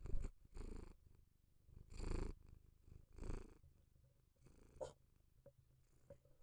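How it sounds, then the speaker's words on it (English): A cat purrs close to the microphone in soft, rhythmic rumbling waves, each breath swelling and fading with quiet pauses between. "Can you guys hear her purring?"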